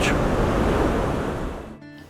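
Ocean waves wash onto the sand at Seacliff State Beach, a steady broad surf roar with some wind, easing off near the end.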